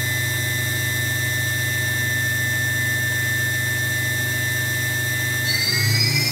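Daewoo Ace DMV-500 vertical machining center spindle running at speed, a steady high whine with layered tonal hum, shifting pitch near the end as the speed changes.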